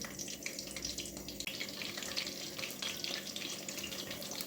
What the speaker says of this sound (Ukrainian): Картопля потихеньку смажиться.